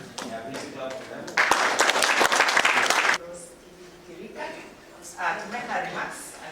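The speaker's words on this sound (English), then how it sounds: "please clap for them." An audience at a university event breaks into loud, dense applause for about two seconds that then stops abruptly, with speech before and after.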